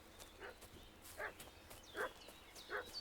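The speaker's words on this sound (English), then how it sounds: "What's that dog making such a fuss about?" A dog in the medieval village of the game Kingdom Come Deliverance 2 barks in short, spaced bursts, four or five sharp woofs with brief yips between them, moderately near and alone.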